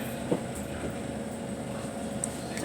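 A Southern passenger train rolls through Clapham Junction station, a steady low rumble and hum with faint wheel knocks, moderately distant and continuous without talk.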